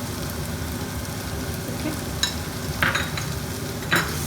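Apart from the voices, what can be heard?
spices frying in oil while being stirred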